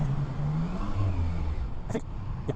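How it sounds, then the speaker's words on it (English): A 2021 Triumph Trident 660 parallel-twin motorcycle engine idles with a low steady growl, rising briefly in pitch before settling, with a couple of faint clicks near the end. "it's got a nice sound, a nice little 660 growl to it, and the exhaust has a nice little hum to it"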